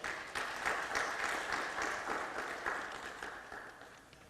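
Applause from a crowd after the UN Resident Coordinator is introduced at a World Press Freedom Day event in Uganda, a dense and steady clapping that fills the hall and slowly tapers off near the end.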